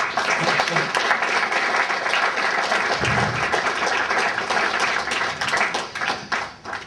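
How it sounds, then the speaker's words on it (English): Wedding guests give a big round of applause, dense continuous clapping that fills the room at full strength, with voices faint beneath it. "if you all want to give yourself a big round of applause"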